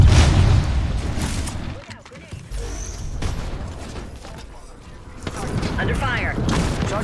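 Gunfire and explosions in Apex Legends rattle and boom in bursts, loud at the start and again near the end, with voice lines heard in between.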